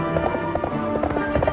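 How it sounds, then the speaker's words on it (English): Horses' hooves clip-clop in a quick, steady rhythm on hard ground, close and continuous over a brief moment amid outdoor background noise in a Western setting. "Unhook them horses."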